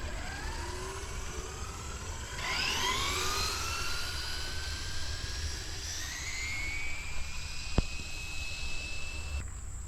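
A Traxxas Drag Rustler RC car on a full-throttle speed run makes a high-pitched electric motor whine that climbs steadily in pitch as it accelerates. A sharp click comes near the end, and the whine then cuts off.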